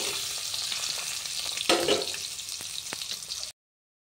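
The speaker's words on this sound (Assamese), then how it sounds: "এয়া ডিম ফ্ৰাই হৈ গ'ল" Eggs frying in hot oil in a pan for a dhaba-style egg curry, a steady close crackling sizzle with a brief louder burst and light stirring, ending abruptly in silence.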